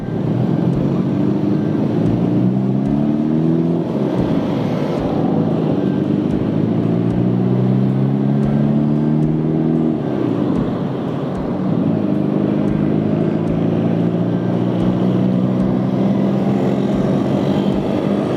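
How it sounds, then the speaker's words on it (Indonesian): Busy evening traffic on a street in Kebumen town, with a loud, constant drone of engines rising and falling as motorbikes and cars pass close by, and no talking. "Jadi kalau sore kota Kebumen itu agak macet ya teman-teman."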